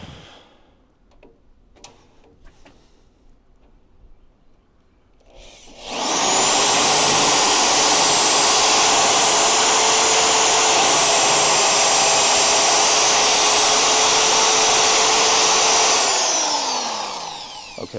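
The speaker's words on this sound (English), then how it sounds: "I drilled through the frame rail" A spot weld cutter bit with cutting fluid bores through a car frame rail on a Crew Cab Charger, starting after a quiet pause as a loud, steady high whine with a grinding undertone that holds for about ten seconds, then winds down.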